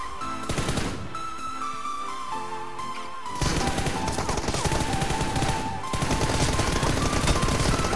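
Continuous rapid automatic gunfire in the mobile game BGMI during a one-on-one team deathmatch, dense bursts running steadily throughout at a loud, even level.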